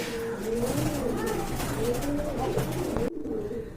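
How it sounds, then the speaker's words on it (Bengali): A pair of Rajgolla pigeons coo repeatedly at close range in a busy pigeon market, steady rolling calls over background chatter. "এক জোড়া দেশি কবুতর দেখতে পাচ্ছেন"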